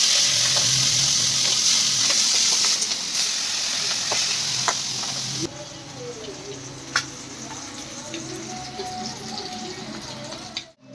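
Prawns frying in hot oil in a home kitchen pan, a steady loud sizzle and hiss that eases off partway through, with a few clinks and stirring sounds.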